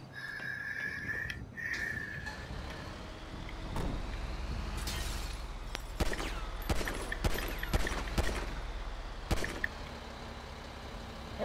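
In Grand Theft Auto, gunshots pop as scattered sharp cracks over a steady low rumble of game ambience, a handful of separate reports spaced out across the middle and late stretch.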